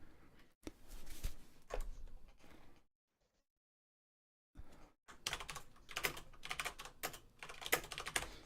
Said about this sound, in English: Don't join his game, I'm typing.